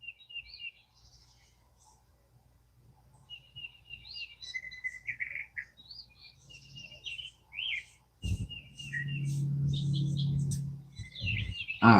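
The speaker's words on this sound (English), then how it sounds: "listening to the birds with us this morning" Birds sing at dawn, with many chirps and short whistled phrases from several birds at moderate distance. A louder broadband rumble rises near the end.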